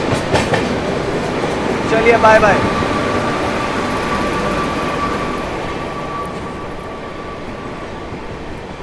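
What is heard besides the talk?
Ala Hazrat Express train running on the rails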